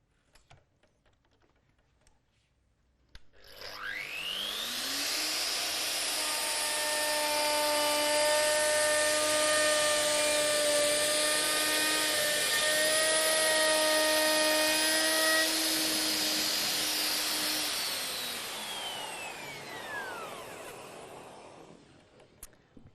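A Festool OF 2200 router spins up, runs at a steady high-pitched whine for about fifteen seconds, then winds down, loud and close with no talking.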